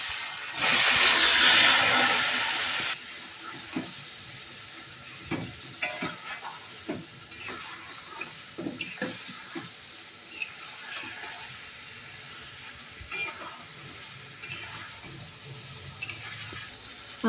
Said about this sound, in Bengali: আমি এটা কষতে থাকবো।